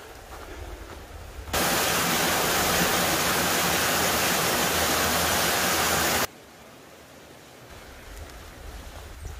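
A mountain valley stream swollen after rain, heard as a loud, steady rushing roar of water for several seconds, with quieter outdoor background before and after.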